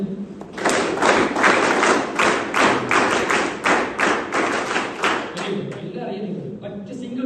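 A classroom of children claps in unison, producing a run of about a dozen loud, evenly spaced claps that slow and fade near the end, with some chatter at the close.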